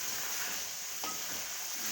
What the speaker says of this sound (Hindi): सब्ज़ मिर्च भी इसमें फ्राई हो जाएगी।